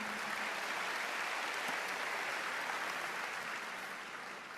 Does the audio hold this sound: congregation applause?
yes